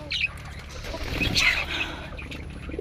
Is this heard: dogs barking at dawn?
no